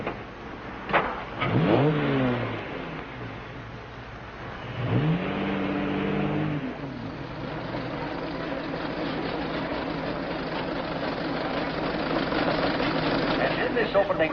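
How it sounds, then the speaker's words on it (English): Antique cars racing, a Stanley Steamer against a Model T: engines rise and fall in pitch alongside a steady mechanical chugging, with people talking over it. "Here is the Stanley Steamer, ready to defend its honor against the Model T."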